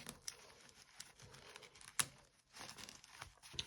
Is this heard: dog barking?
no